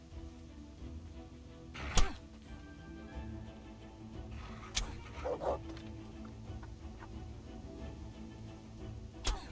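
A dog in the medieval role-playing game Kingdom Come: Deliverance gives a few sharp, separate barks and yips over a steady low background hum, with quiet gaps between the outbursts.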